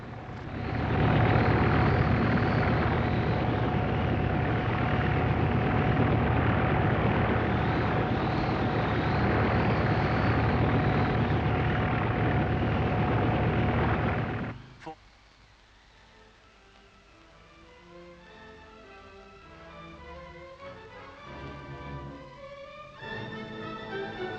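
A loud, steady helicopter drone fills the first half with a constant whirring hum, then cuts out, leaving quieter sounds near scattered cattle and a voice speaking.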